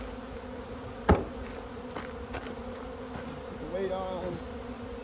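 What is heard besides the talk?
honeybees buzzing around a hive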